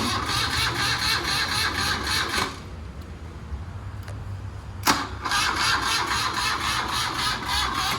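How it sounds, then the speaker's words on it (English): A motorcycle engine cranking weakly on the starter in a shop, a long buzzing crank that stops for a couple of seconds, a sharp click, then cranking again without catching. "It's pretty weak cranking."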